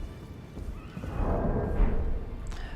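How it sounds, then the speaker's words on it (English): A horse in the Elden Ring video game whinnies and neighs, rising to a loud peak near the end, with hooves clip-clopping underneath and steady game ambience behind. "The horse."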